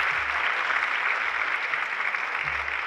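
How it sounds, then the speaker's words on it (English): Audience applause for a trumpet soloist at a high school winter band concert, an even, sustained patter of clapping from a full hall with no gaps. "Just give her a quick round of applause."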